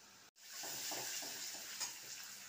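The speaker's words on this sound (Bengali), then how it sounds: "ওই মাছের তেলে পেঁয়াজ আর দুটো শুকনো লঙ্কা দিয়ে দিলাম।" Onion and two dried chilies frying in leftover fish oil give a loud, steady sizzling hiss, with faint stirring clinks under it and one brief dropout near the start.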